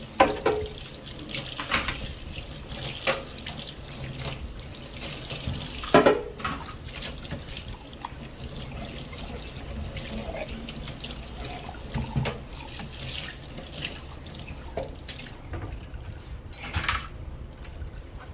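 A kitchen tap runs steadily during a quick wash-up while Dasheen bush and salt fish are being cooked, with a few clinks of dishes and cutlery over the flowing water.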